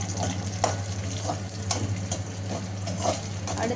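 Brinjal with green chillies sautés in a pan, giving a steady low sizzle broken by scattered scrapes and clicks of stirring, with a constant hum in the background and no voices.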